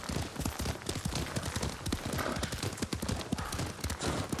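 Horse hooves clip-clop steadily at a riding pace in Ghost of Tsushima, a close, rhythmic patter of evenly spaced hoofbeats running alone for the whole stretch.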